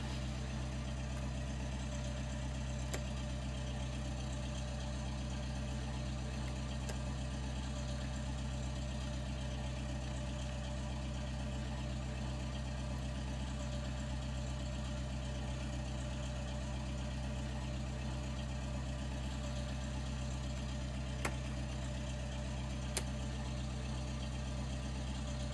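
A light aircraft engine, just started, idles steadily with a constant low droning rumble, close and unchanging, with a few faint clicks over the long stretch and no voices.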